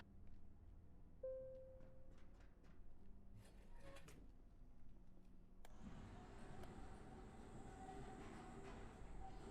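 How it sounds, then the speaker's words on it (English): A tram in the video game Abiotic Factor rolls in with a low rumble that swells into a loud, steady rushing roar of wheels and machinery. A brief tonal whine rises in the middle before the roar takes over. "Here comes the tram."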